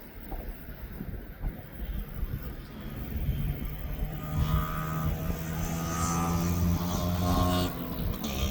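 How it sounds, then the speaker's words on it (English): An aircraft descends to land at East Midlands Airport, a steady broadband engine roar with a low droning tone that builds gradually over several seconds, heard from a distance outdoors with some wind noise. "So that aircraft is now just coming down onto the airfield."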